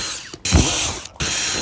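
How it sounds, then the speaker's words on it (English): A power drill bores holes into a plastic container, with two loud, steady bursts of whirring and grinding separated by a short pause. "I'll drill a hole on this container"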